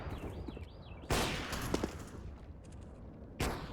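Mag 7 shotgun fire in a CS:GO esports match, two loud sharp blasts about two seconds apart over quiet background game noise.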